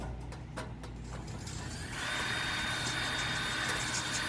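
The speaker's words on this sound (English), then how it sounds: "I'm just going to drill a hole right through this spot." A power drill starts up after a few faint clicks and drills a hole through a drum shell for a bracket, running with a steady high-pitched whine without pause.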